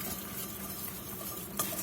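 Dijon mustard being whisked into a homemade Caesar dressing in a bowl, giving a steady close scraping and swishing stir with one sharper clink near the end, no talking.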